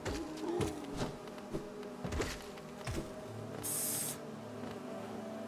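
Small bees buzz in Hollow Knight, a faint droning hum broken by repeated soft hits and clicks in an uneven rhythm, with a brief hissing burst midway and no talking.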